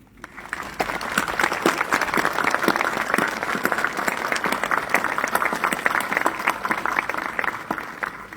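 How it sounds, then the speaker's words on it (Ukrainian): An outdoor gathering of parishioners at a Marian feast-day indulgence celebration breaks into sustained applause, dense and even, starting quickly and holding steady at moderate loudness to the end. "білобірчанам належать великі оплески"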